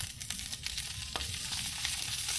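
Clams and sausage sizzle on a Blackstone flat-top griddle with a steady, dense crackle and occasional light spatula clicks, fairly close and with no talking.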